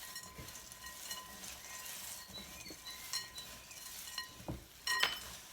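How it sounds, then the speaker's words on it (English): Dry granola ingredients including dried cranberries and blueberries tossed together in a bowl, giving faint scattered clinks, light patter and stirring rustles, with a few sharper taps near the end. "so we're going to mix all these dry ingredients together real quick"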